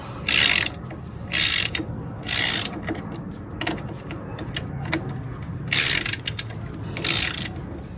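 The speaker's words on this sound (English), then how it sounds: "Now we're going to loosen this. This is a" A ratchet with a 17 mm socket loosens a bolt on an air-cooled VW Type 4 engine in a Porsche 914, sounding as six close, crisp clicking bursts separated by short pauses and quieter handling noises.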